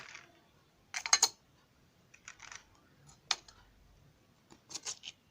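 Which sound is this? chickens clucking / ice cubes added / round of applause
ice cubes added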